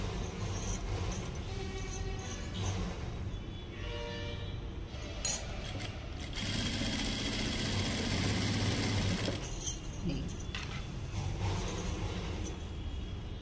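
A sewing machine runs while a lehenga is stitched, a close mechanical whir and rattle that surges and eases in several bursts, with small metallic clinks between runs.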